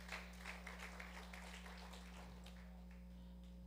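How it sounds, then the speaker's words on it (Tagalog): Church congregation applauding during a sermon, a soft, steady patter of clapping over a constant electrical hum that thins out and fades after a few seconds. "Malakas na palakpak sa Panginoon."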